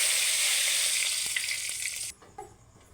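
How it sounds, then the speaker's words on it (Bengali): Raw cumin seeds in hot oil give off a loud, steady sizzle that cuts off abruptly near the end, followed by a couple of faint clinks. "তেলের পরে এবার একটু কাঁচা জিরে দেবো"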